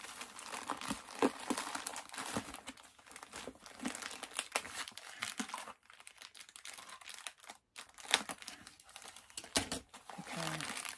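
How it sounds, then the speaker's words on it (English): A heavily taped comic book package is pried open: sustained crinkling, tearing and scraping of tape and plastic, faint and close, with scattered sharp snaps and brief pauses. "It's always a bit of a challenge to open some of these packages."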